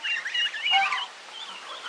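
Geese honk and squawk near newly arrived ducklings, a few close, loud, wavering calls that fade into thinner cries by the end, with no speech.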